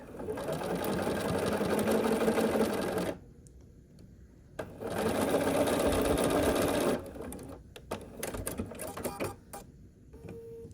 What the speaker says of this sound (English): and then I will start sewing here